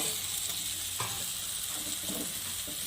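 Pieces of ridge gourd tumble into spiced potatoes frying in a pan. A dense, continuous sizzle fills the clip, with soft scraping and stirring knocks close by.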